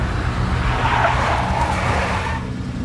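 A car skids with a long, loud tire screech over steady engine noise in the video game Max Payne, the squeal rising in the middle and easing off near the end.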